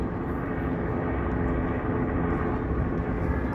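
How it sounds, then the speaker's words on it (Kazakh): A helicopter flies over Chicago, its engine and rotor making a steady, loud, broadband drone that holds level and continuous throughout, with no voices. "Вертолет."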